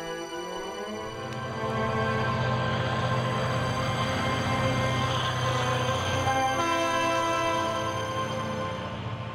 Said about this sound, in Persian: قطار دیگری از ایران رسیده.